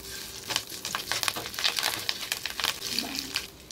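Curry leaves roasting in a pan for a vegetable rice bowl, a soft crackling sizzle with light scraping stirs, close and moderately quiet, no voices.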